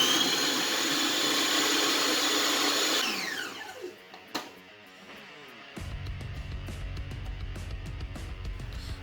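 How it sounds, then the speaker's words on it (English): A blender processing beetroot puree whirs loudly and steadily for about three seconds, then spins down and stops before a lower motor hum starts again, with no talking. "You might need to use a blender for this."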